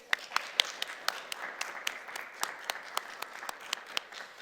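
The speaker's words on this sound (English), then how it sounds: "can I get one last small round of applause for our boys up here?" Applause from an audience at a school speech competition, honoring the speakers with sparse, individual claps spaced across the whole stretch, fairly quiet and thin rather than a full, dense ovation.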